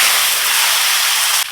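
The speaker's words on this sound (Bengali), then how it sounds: "এই যে তেল আছে এই তেলেই কচু দিয়ে দেব।" Taro pieces hit hot oil left over from frying fish, setting off a loud, close, continuous burst of hissing sizzle that cuts off abruptly near the end.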